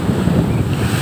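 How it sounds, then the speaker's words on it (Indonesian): High ocean waves roll in on the west coast of Lampung, a steady, loud roar of surf mixed with heavy wind buffeting against the microphone. "gelombang ombaknya cukup tinggi"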